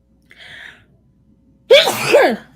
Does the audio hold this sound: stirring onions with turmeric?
no